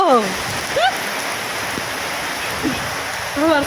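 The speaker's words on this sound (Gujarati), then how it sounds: "આવ્યો વરસાદ આવ્યો વરસાદ" Steady rain hisses and patters while people talk and call out briefly over it.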